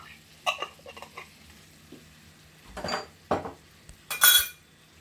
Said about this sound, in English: I'm just going to keep stirring it so I can combine all my ingredients together